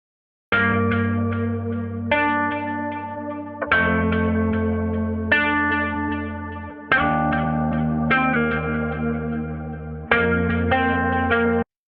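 Guitar chords played through effects, strummed in sustained phrases about every one and a half seconds, sounding dull and muffled with the highs rolled off.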